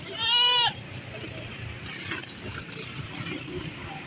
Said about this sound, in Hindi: और ये खसी बकरा खड़ा हुआ है।